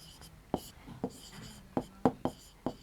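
A pen scratches out a few short strokes on paper while values are written down for a cone volume problem, six or so crisp separate marks spaced about half a second apart, close and quiet, with a voice speaking faintly.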